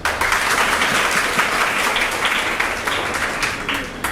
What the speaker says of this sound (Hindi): आप सभी तालियां बजाने में कंजूसी ना करें।